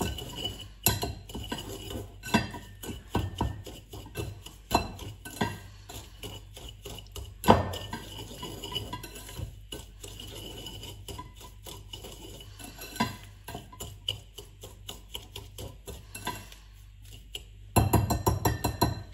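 Buttermilk is stirred into speculaas dough with a utensil in a bowl, giving a run of close rubbing scrapes and sharp clinks in an uneven rhythm, unaccompanied by speech.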